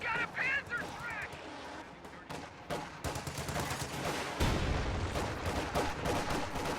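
Battle gunfire from a WWII strategy video game, with a Panzerschreck rocket launcher in the fight: rapid overlapping shots and bursts pop in dense clusters, then a heavier rumbling blast swells and carries on under a busy mix of combat noise.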